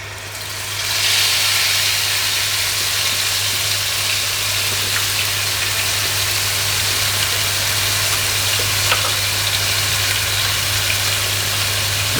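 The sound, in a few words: harissa paste sizzling as it cooks in the pan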